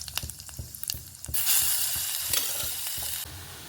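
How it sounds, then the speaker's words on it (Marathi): Mustard seeds tempering in hot oil in a pan, crackling and popping in a run of sharp snaps that swell into a steady loud sizzle, then ease off toward the end, with no voices. "मोहरी तडतड द्यायची चांगली."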